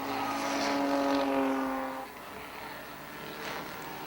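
Race car engines at an airborne enduro and demo derby track, a droning motor passing at mid distance that fades after a couple of seconds into rougher, quieter engine noise.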